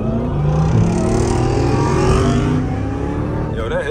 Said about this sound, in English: Yo, that Hellcat is driving crazy,